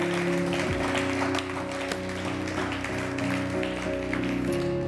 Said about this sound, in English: Would you clap your hands for the Lord?